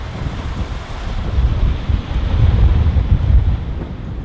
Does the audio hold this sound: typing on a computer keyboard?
no